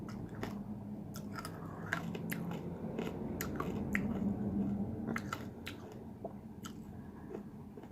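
Close, wet chewing and biting of vegan food during a mukbang meal, steady crunchy and squishy mouth sounds with sharp bites scattered throughout, no talking.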